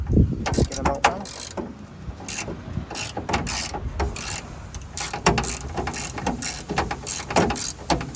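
Close, busy metallic ratcheting and clanking as bolts are worked loose from the crash-damaged wing of a Ford Fusion, rapid irregular clicks and knocks continuing throughout with no talk.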